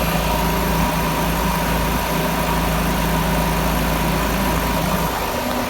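A 2005 Porsche 911 Carrera S, freshly repaired after a coolant leak, idles steadily and close by, a continuous low engine hum with a constant broadband roar and no voices.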